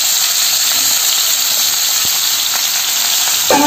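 Vegetables fry in hot oil in a pan with a steady, loud, close sizzle and faint stirring clicks.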